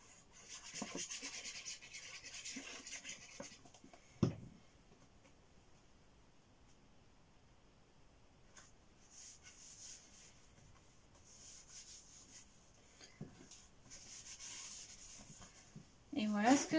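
Soft rubbing and brushing on decorative paper being glued onto a handmade mini album, in a few quiet bursts with a sharp tap in between and a louder scrape at the end.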